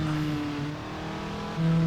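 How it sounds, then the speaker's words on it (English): Race car engine in the Project Cars racing game revs loudly and steadily, with a sustained tonal drone that dips slightly and then surges higher near the end, heard alone. "Beautiful sounding"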